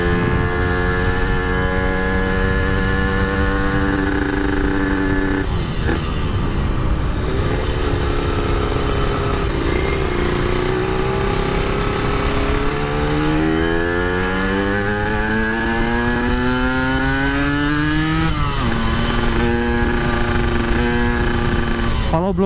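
A Yamaha RX King two-stroke motorcycle being ridden on the street, its engine loud and close, revving up and down through several gear changes with a rasping, buzzy exhaust note.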